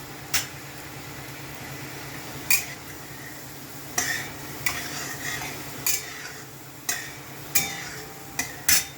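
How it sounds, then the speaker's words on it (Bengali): Notey shak greens stir-fried in a pan over a full gas flame with a little turmeric: a spatula scrapes and knocks against the metal pan in irregular strokes over a soft background hiss. "এটা নোটে শাক ভাজা হচ্ছে।"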